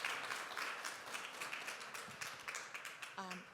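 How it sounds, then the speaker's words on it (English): Audience at a startup pitch event claps in a brief round of applause, dense and fairly even, with some voices audible through it and a short tonal sound near the end. "round of applause"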